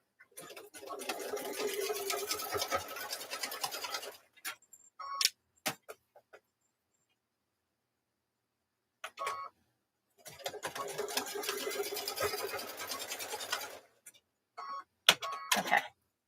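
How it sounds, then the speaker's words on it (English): Close stitching from a sewing machine sewing a zipper onto a lanyard comes in two long, steady runs of about four seconds each. Sparse clicks and handling noises fill the quiet gap between them. "So we've now got the zipper sewn on here."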